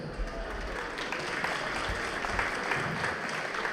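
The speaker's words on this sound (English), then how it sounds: "Can we have a round of applause?" An audience at a Pakistan Independence Day event claps together, a soft, steady patter of applause at moderate distance with no voices on top.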